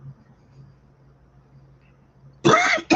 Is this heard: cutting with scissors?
no